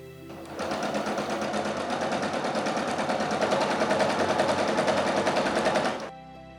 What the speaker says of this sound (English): Repeat this with all of the 7 strips of black and white stitched together.